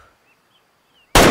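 A single loud, sudden rifle shot is fired at a wood bison in the hunting video game Way of the Hunter, bursting out at the end after near-silence.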